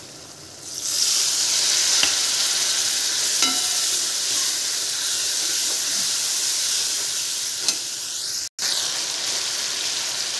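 Water poured into a hot egg curry masala of turmeric, coriander and salt sets off a sudden loud hissing sizzle that holds steady and close, with a few faint clinks and no talking.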